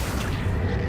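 A spell being cast in a Harry Potter video game, a deep, booming magical burst that rumbles continuously through the short moment, loud and full in the low end.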